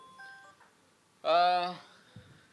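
A short electronic tone pattern, a few thin beeps followed by a louder harmonic chime lasting about half a second, then quiet.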